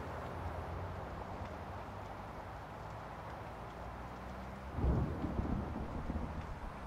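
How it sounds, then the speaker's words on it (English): Steady rain-like rumble throughout a video game scene, with a deep thunderclap bursting in near the end and rolling on briefly. "where's the thunder and lightning coming from?"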